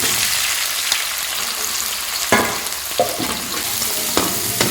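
Chopped onion and garlic fry in a hot pan with a loud continuous sizzle, broken by several sharp stirring scrapes and clinks, with no one speaking.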